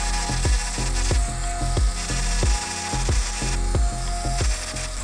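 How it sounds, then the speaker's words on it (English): Small rotary tool fitted with a tiny diamond burr grinding lines on a metal spoon, a steady high whine broken by short repeated gritty bursts as the burr touches the metal, close and alone. "I'm going to use a tiny little triangle piece. There we go. It's just a little diamond burr."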